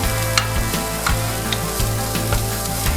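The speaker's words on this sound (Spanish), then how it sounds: "un poco de aceite en el sartén a fuego medio y sofreímos la cebolla primero" Onion, garlic and ginger fry in oil in a pan over medium heat for a vegan curry, sizzling loudly and steadily while a utensil stirs with regular scraping knocks.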